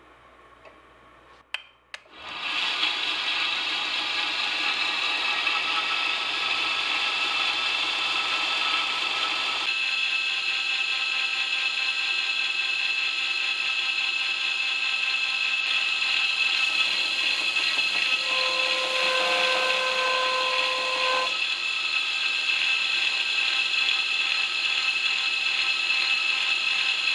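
Belt grinder running steadily while grinding the bevel of a knife blade, a loud continuous whirring hum with high whine, close and sustained throughout, with no talk.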